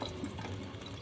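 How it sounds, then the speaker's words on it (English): Splashy, watery bursts from jumping onto jets of water in a modern video game platformer, a short steady wash of spray lasting about a second with no talk over it. "What do you think that jumping on jets of water sounds like?"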